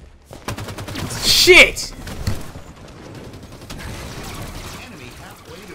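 Gunfire in Halo 5: Guardians multiplayer crackles through a short burst of shots near the start, with one sharp louder blast, while a voice swears over the fight.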